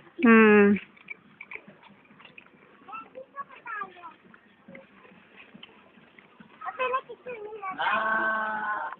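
Goats bleat loudly and nearby at the start and again near the end, with fainter calls and people talking over the farm scene in between during feeding time.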